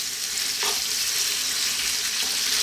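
Bacon sizzles and spits loudly in a hot pan over high heat, a dense, steady frying hiss that fills the whole stretch close up, with no voices.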